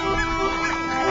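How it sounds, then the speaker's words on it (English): Greylag geese honk in a dense, continuous chorus of overlapping calls, steady and fairly loud throughout, with no clear gaps between birds. "In grey-lag geese, it is the male-male pair bonds that persist and remain stable from year to year."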